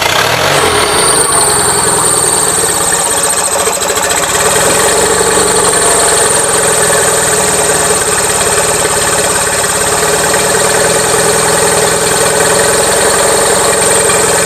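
Onan engine on a Gravely 450 walk-behind tractor idling steadily and loudly up close, running a little rich with a suspected head gasket fault, a continuous unchanging drone with a high whine throughout.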